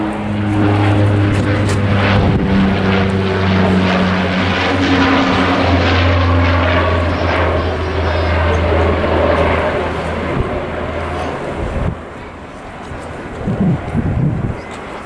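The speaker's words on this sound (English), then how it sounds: "There's another plane and it's another Flybe plane." A Flybe propeller airliner drones steadily overhead with a loud, sustained engine hum and layered tones, while people talk intermittently beneath it.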